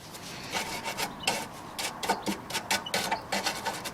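A plastic-bristle brush scrubs soil out of the heads of Torx bolts on an MTD Yardman DX70 mower, with quick, rhythmic rasping strokes, close and fairly quiet, and no talk.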